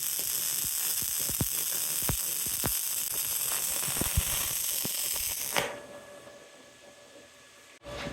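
HTP Freedom 3000 Pulse welder laying a bead in a shop, a close, steady crackling sizzle with sharp pops for about five seconds, then an abrupt stop leaving faint hum and a final click.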